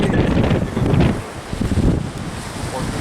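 Cold wind blowing by the lake, loud, gusty buffeting against the microphone with a low rumble that rises and falls throughout.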